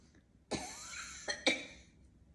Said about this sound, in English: I just cough like that sometimes.